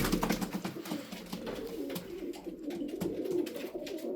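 Young Sarıkır tumbler pigeons coo and call softly in a continuous stream, several voices overlapping at close range, with faint rustling and fluttering underneath.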